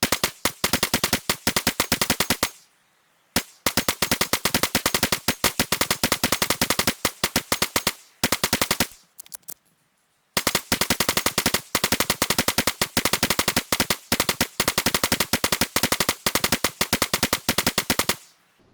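In the game DayZ, a machine gun empties drum magazines into a chain in long rapid bursts of dense, loud gunfire, broken by a few brief pauses and resuming over roughly eighteen seconds.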